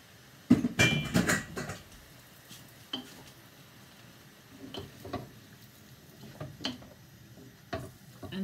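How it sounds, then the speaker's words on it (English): Noodles going into a hot pan for pork pad thai, with an initial loud clatter and sizzle followed by scattered soft taps and stirring sounds at moderate distance, no talking. "I'm going to add my noodles."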